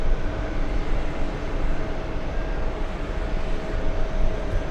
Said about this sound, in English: Next one coming in, it's Neos flying in from Milan